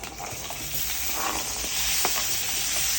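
Curry leaves frying in hot oil for tomato rice give a steady, close sizzling hiss that holds evenly throughout, with faint stirring scrapes and no voices.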